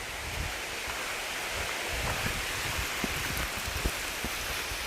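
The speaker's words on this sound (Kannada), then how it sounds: "ಮಳೆ ಎಲ್ಲ ಜೋರಾಗಿದೆ." Heavy rain pours steadily near Vajragundi waterfall outside Ankola, Uttara Kannada, a dense, even hiss of water with no voices, loud and continuous through the whole stretch.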